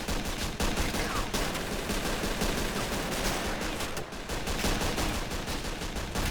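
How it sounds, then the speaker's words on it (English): Dense, continuous gunfire and explosions from a World War II trench battle in the video game Assault Squad 2, with Russian troops attacking encircled German trenches; loud, sustained crackling volleys and blasts with no pauses. "we have explosions going off left, right and centre, tracers going off left, right and centre, and gunfire going off all over the place"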